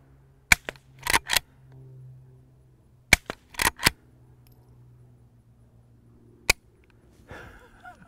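Suppressed gunshots from a threaded Henry Frontier lever-action rifle fired with a silencer: several sharp, fairly quiet cracks spread across the clip, each followed closely by brief metallic clatter from working the lever, with low background hum between.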